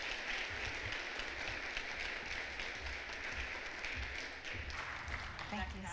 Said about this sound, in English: Please give a big round of applause and welcome to Victoria Aylin Bryant to the stage.